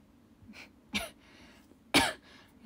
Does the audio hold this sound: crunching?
no